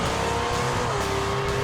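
A loud drag racing car, a blown Nova, roars steadily at full throttle launching down the track, with a sustained high whine and tire noise, close and continuous.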